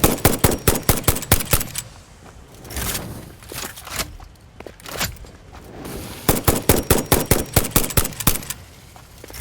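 Rifle fire at a spitter creature in the video game Satisfactory comes in rapid bursts of sharp, loud shots, with a quieter stretch of ambient noise between the opening and closing volleys.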